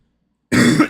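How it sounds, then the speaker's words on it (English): A single short, harsh throat-clearing cough, close and loud, bursts out after half a second of silence. "Sorry for the coughing."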